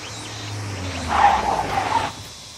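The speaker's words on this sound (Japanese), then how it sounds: "車だ。" A car approaching on a quiet rural road, its engine and tire noise swelling briefly from a faint background hum before cutting off.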